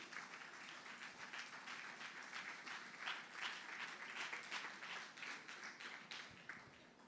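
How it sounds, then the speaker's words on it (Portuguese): A standing church congregation claps for Jesus at the close of a sermon, with dense and continuous applause filling the room at a moderate, fairly even level for about seven seconds. "Dá uma salva de palmas para Jesus."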